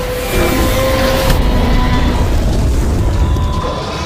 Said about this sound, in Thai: ระเบิดออกมาใส่เจ้าทีเล็กเราแล้วทุกคน